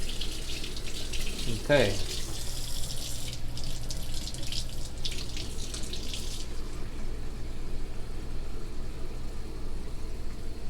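Warm water runs steadily from a kitchen tap in a constant close hiss, then the flow drops about two thirds of the way through, and a voice speaks one brief word.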